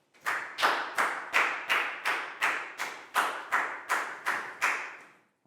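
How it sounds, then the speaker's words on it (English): Slow, evenly spaced claps from a small group of pupils in a Year 4 classroom, about a dozen sharp beats in steady rhythm, close and fairly loud with no talking. "Big round of applause for Chu,"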